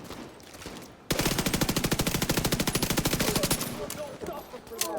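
An AK rifle in The Division 2 fires a long, fast, steady burst of automatic shots at close range, starting abruptly after a quieter moment and then trailing off into scattered game sounds.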